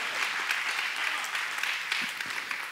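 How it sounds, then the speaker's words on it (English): Church congregation clapping hands together in a sustained, dense burst of applause that fills the room evenly throughout, with no voices standing out. "somebody clap your hands right now"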